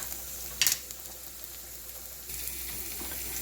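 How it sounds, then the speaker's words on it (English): Shallots, onions and sun-dried tomatoes sauté in a pan with a steady, close sizzle throughout, broken by a brief sharp clatter early on and a slight swell in the frying noise later. "I sauteed the shallots, and now I added the sun-dried tomatoes"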